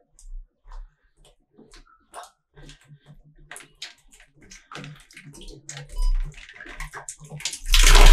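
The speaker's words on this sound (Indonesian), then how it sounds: "ini airnya keluar tanpa pompa ya" Water runs from the tap of a household water tank fitted with a float valve and no pump, starting as sparse splashes and building into a louder gush toward the end, with scattered handling noises.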